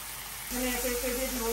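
Tomato, potato, onion, garlic, ginger and ground spices such as turmeric and chili sizzle in a hot pan, a steady frying hiss that swells halfway through with a faint tonal whine running over it.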